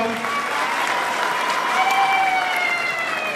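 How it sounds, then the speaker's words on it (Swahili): An audience at a political gathering in Nyaribari, Kenya applauds steadily, a dense wash of clapping from the crowd with voices mixed faintly underneath. "Tumpigie makofi kwa."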